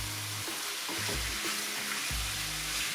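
Chopped tomato goes into garlic frying in a pan for an egg curry shakshuka, and a loud, dense sizzle runs throughout with low thumps and stirring scrapes as the pieces settle.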